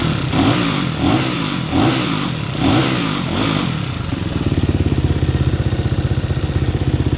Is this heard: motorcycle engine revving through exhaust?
yes